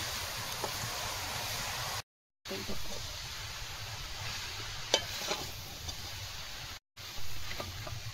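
Grated coconut mixture for narkel naru is stirred in a pan, making a low continuous sizzle and hiss with soft scraping strokes. The sound is faint and fairly even, with two brief dropouts.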